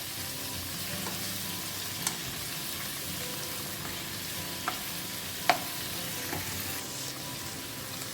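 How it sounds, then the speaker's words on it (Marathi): Prawns fry in a pan over a medium flame with a steady, even sizzle, broken by a few soft spatula taps and clinks, close by with no voices. "सो आमकां लो फ्लेम मिडियम फ्राय करून घेवंक जाय 10 मिनटां"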